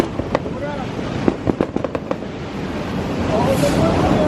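Firework smoke maker going off outdoors at a New Year celebration, with a cluster of sharp crackling pops followed by a steady hissing rush, heard under people talking.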